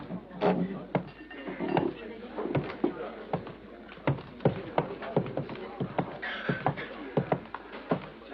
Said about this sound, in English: I'll go look after my horse.